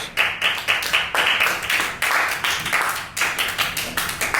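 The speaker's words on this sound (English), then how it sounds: "Round of applause." A small group claps after a student media presentation, a near round of uneven, bursty hand claps that rise and fall in waves, with no talk.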